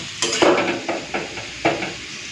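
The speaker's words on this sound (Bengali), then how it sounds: "পোস্ত বাটাটা দিয়ে দিচ্ছি।" Poppy seed paste loosened with a little water goes into a pan of fried potatoes and is stirred, giving several scraping, stirring strokes against the pan over a soft sizzle.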